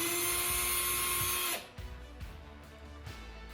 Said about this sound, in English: I am going to use one of these already existing indentations in the gun to drill a small pilot hole.